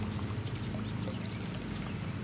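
Hot water from a solar pool heater outlet pours in a steady, soft, continuous splashing stream, close and unbroken with no talk.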